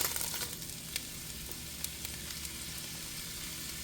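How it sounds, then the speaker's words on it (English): Onions fry in olive oil in an enamel cast iron pan with a dense, steady hiss and crackle, close up and even throughout, with a few small ticks and pops scattered over it and no voices. "And then I'm going to add the onions."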